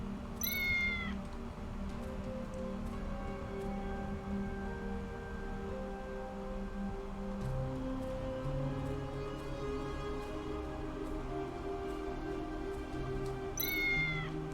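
A cat meows in the video game Tales of the Neon Sea, with two short rising meows at the start and end over a steady droning game music bed, and no one talking.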